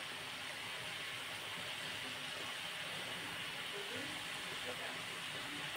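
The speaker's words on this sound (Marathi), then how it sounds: "आता हे आपण तळून घेणार आहोत।" Semolina samosas deep-frying in a pan of hot oil, giving a steady, even hiss and sizzle throughout at a constant moderate level, with no talk.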